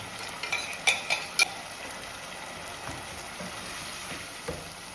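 Chicken cooking in a pan with roasted ground coconut paste, stirred with a utensil: a few sharp scrapes and clinks early on, then a soft, steady sizzle simmering quietly underneath.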